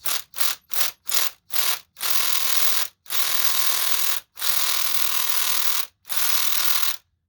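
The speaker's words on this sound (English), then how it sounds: "I just use my socket, my cordless drill, to take out the spark plugs." A cordless drill with a socket whirs in five quick short bursts, then runs in three longer sustained spins with brief pauses between, loud and close, removing spark plugs from a 2002 Chevy Colorado.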